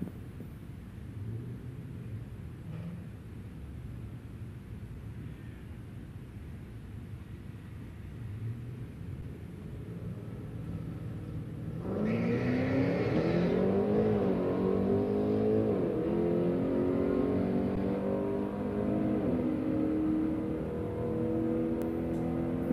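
A 2006 Ford Mustang GT at a drag strip, with a low idle rumble that rises into a loud, sustained engine roar as the car launches and accelerates hard, alone without commentary.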